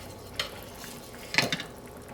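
A pan of paella rice in broth shaken on a burner, giving two brief metallic clatters of the pan against the stove with a faint simmering hiss between them, close and fairly quiet.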